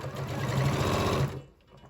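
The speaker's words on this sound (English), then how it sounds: "start sewing" A sewing machine stitches a knit neckband in one short, close burst of fast, even needle clatter that stops abruptly.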